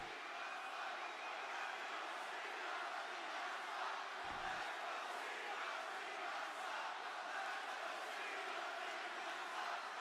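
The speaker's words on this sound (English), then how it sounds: "The crowd is alive." Dense, steady roar of a large wrestling arena crowd at a WWE Friday Night SmackDown show, a continuous wash of cheering and shouting that holds at an even level throughout without a break.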